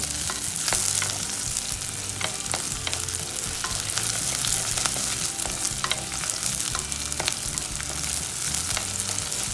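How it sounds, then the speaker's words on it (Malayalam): Brinjal and dried red chillies sauté in a pan for a Palakkad-style brinjal puli, giving a steady, close sizzle with frequent stirring scrapes and clicks throughout and no talking. "ഇനി ഇത് നന്നായിട്ട് വഴറ്റി കൊടുക്കുക"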